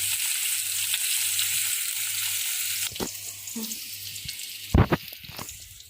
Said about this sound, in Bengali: আমার ফুলকপি ভাজাগুলো হয়ে গেছে